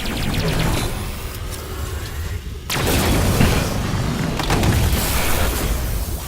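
A Spartan laser, the Void's Tear custom weapon in Halo 5, fires a loud, abrupt blast midway with a heavy booming release that rolls into lingering rumble and crackle, set against steady game noise without speech.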